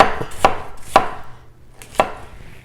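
A handmade knife chopping through an onion on a board, four sharp, close knocks spaced irregularly over a couple of seconds, with no talking.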